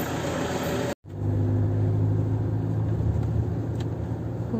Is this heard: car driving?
yes